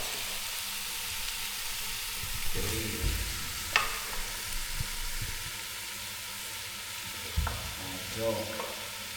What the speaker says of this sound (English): people may just transfer the meat and the vegetable to the pot